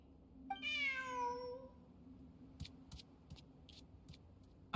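A cat in the Genshin Impact video game gives one clear, drawn-out meow, followed by a few faint ticks and clicks over quiet game ambience.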